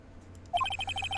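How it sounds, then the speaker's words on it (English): A telephone ringing in the Phoenix Wright: Justice for All video game, starting suddenly with a rapid, evenly pulsed electronic trill that repeats, fairly close and clear over a faint low background hum. "Oh God, the phone."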